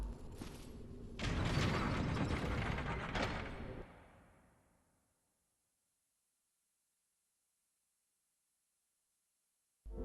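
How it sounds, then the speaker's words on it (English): A lever pulled in the Dark Souls video game sets off a loud grinding, clanking mechanism that turns for a few seconds, then fades out into near silence. "Let's pull this lever."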